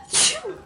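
A single sharp sneeze, a bright hissing burst followed by a short trailing exhale, close and fairly loud.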